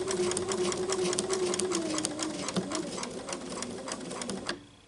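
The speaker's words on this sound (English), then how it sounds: "I'm going to let the machine do its thing, and I am just going to continue to sew to my next corner" A sewing machine runs steadily for several seconds, stitching fabric while a quilt block is pieced, with a continuous motor hum and rapid needle chatter that stops abruptly near the end.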